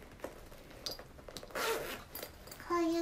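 The zipper on a Sanrio pouch from Shimamura is pulled open in short, close raspy strokes, with a soft voice speaking briefly near the end.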